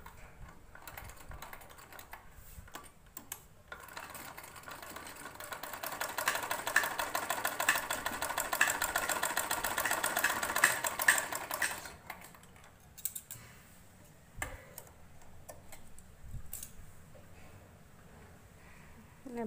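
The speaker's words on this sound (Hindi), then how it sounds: "अब एक सिलाई देखिए हमें यहाँ से करनी है" A sewing machine stitches fabric for a latkan tassel, its fast steady needle rattle building to a loud run in the middle and then dropping to short, quieter bursts and handling noises.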